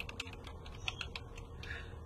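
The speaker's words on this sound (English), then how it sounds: "It's hard typing when you're almost upside down" Keys clatter on a computer keyboard in quick, uneven bursts, typed at an awkward, nearly upside-down angle; close and fairly quiet, with no talking.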